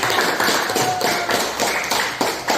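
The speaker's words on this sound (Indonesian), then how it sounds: "Iya, tepuk tangan" Classroom applause after a student's answer, a steady run of hand claps at close range filling the whole stretch, with no voices over it.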